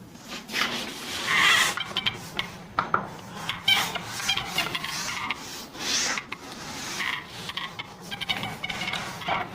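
Writing on a board being rubbed out with repeated scrubbing strokes during an electrochemistry lesson, close and fairly loud in an irregular back-and-forth rhythm, with almost no talking.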